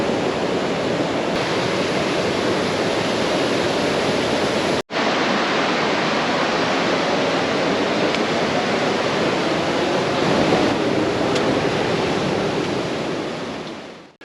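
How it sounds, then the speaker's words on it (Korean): The Budhi Gandaki river rushes close by on a Himalayan trekking route in the Manaslu region, a loud, steady roar of churning water that continues almost unbroken for the whole stretch, with no voices over it. "부디간다키 강이 바로 옆에서 흐르고 있습니다."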